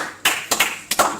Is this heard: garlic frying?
no